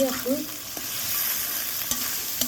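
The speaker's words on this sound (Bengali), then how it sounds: "লাল লাল করে ভাজি পেঁয়াজ" Onions frying in a pan until reddish-brown, a continuous quiet sizzle broken by a few sharp clinks and scrapes of a spoon stirring against the pan.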